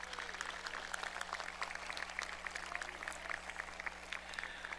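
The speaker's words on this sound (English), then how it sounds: "Let's give them a round of applause." Steady applause from a large audience at a high school graduation ceremony, a dense and even wash of clapping heard at some distance for several seconds.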